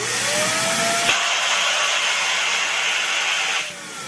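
A vacuum pump runs loud and steady, a dense buzzing roar that draws air from a vacuum chamber holding a balloon, then drops sharply in level near the end.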